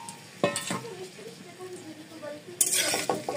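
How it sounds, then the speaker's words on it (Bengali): Cauliflower pieces frying in hot oil in a wok, a steady sizzle with a couple of sharp utensil scrapes and clinks as the florets are stirred. "ফুলকপিগুলোকে ভেজে নেব।"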